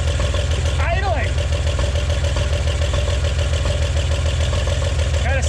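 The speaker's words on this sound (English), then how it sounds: "Idling!" A junkyard 1961 Chevrolet Impala hardtop, abandoned for 28 years, idles with a steady, close low rumble, while someone speaks briefly over it twice.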